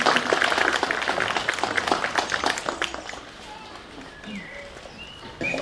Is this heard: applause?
yes